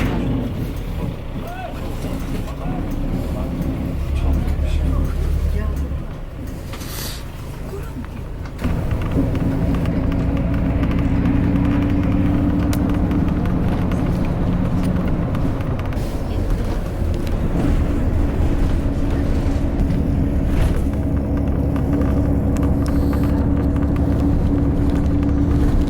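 Interior drone of a bus travelling in South Korea, a steady low engine rumble that shifts and grows louder partway through, with a brief hiss of air brakes and muffled talk in the background.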